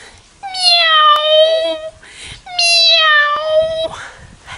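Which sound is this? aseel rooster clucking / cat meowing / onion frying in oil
cat meowing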